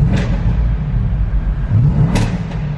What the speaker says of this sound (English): Yeah, a lot of overrun on this thing.